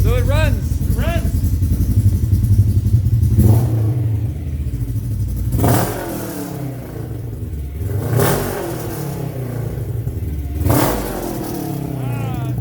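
A Polaris RZR RS1 with a Stage 2 tune and loud aftermarket exhaust runs at a burbling idle, broken by four or five sharp throttle blips that rise and fall in pitch, with people talking nearby.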